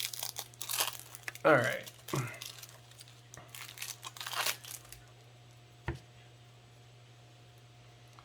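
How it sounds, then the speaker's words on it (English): Cellophane wrapper on a Magic the Gathering Doctor Who Commander deck being torn and crinkled open in bursts of crackling, close up and fairly quiet, with a brief spoken word partway through. "I hate these cellophane packets."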